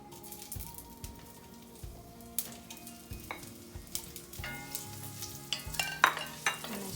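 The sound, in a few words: potatoes frying in spiced oil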